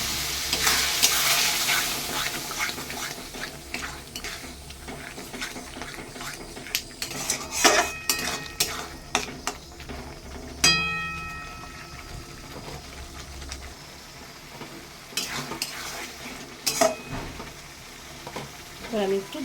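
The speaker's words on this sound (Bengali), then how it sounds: "এই জলটা একটু দিয়ে দিচ্ছি ধীরে ধীরে কিন্তু।" Water is poured slowly into a pot of home-style pulao cooked with turmeric, and it hisses and sizzles against the hot fat. Metal spoon stirs and clinks against the pan break in sharply, close and irregular.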